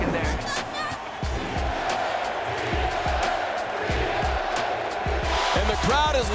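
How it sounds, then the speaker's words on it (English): A packed arena crowd roars at a Lakers playoff game during the 2009–2010 championship season, a dense continuous din with whoops and rhythmic thumping, plus an announcer's voice breaking through near the end. "And the crowd is louder than it's ever been in this building."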